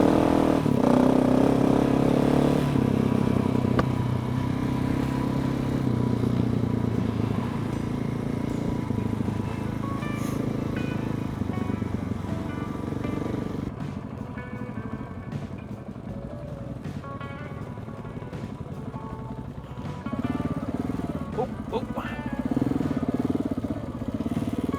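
A KTM 690 motorcycle rides off-road through trees on Malcolm Island, its engine droning and rising with throttle blips, close and fairly loud, with clattering as the bike works over rough ground.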